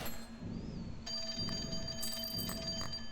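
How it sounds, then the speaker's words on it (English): Telephone ringing in the video game CloverPit, a steady electronic ring with tonal harmonics repeating in short bursts over a continuous game background hum. "Phone rings again."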